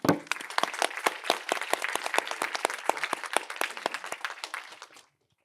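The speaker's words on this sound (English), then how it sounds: "and another round of applause, please" Applause for the speakers at a product management info-day: a room of people clapping steadily and densely for about five seconds before it cuts off abruptly into silence.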